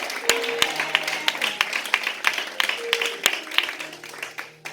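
Church congregation clapping at an Easter service, scattered rhythmic claps from a modest crowd, fairly close and steady, with sustained keyboard-like tones underneath.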